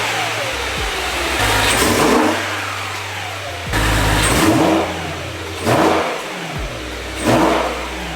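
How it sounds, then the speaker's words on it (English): A BMW E9X M3 engine fitted with an AFE carbon fiber intake idles and revs close by, several sharp throttle blips rising and falling over a steady low rumble. "So now let's turn on the car, see how it sounds"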